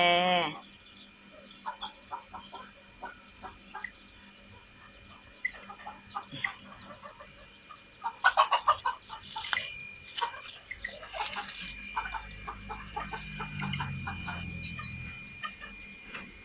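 Soft, scattered clucks and chirps from several Silkie chickens, a rooster and hen with chicks, close by, with small peeping calls in a quiet outdoor setting and a brief louder burst of clucking midway.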